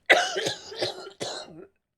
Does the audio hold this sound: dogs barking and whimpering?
no